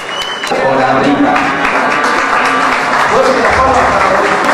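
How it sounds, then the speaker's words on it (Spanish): A crowd at a Peruvian Automobile Club ceremony honouring Dakar 2012 drivers claps loudly and steadily for the 4x4 competitors, with a voice briefly heard at the start. "Fuerte aplauso para los duros 4x4."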